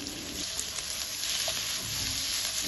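Boneless chicken pieces with cubed capsicum frying in a pan, a steady dense sizzle with faint stirring, close and continuous throughout with no talk.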